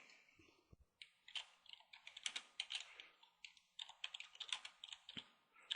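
A computer keyboard is typed on in quick, uneven bursts of close, crisp key clicks, pausing briefly between words. No one speaks.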